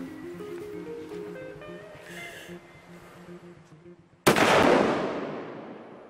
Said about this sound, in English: Your fella's just gonna try and line my rifle up because I'm sure it's been firing to the left.